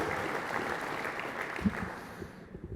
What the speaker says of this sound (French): vous pouvez les applaudir parce qu'ils méritent